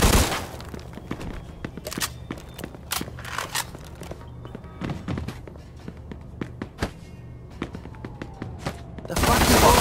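Scattered gunshots ring out in a Mafia 2 video game shootout, sharp cracks in irregular bursts spread across the moment, some near and loud, others fainter, with footsteps and game voices in between.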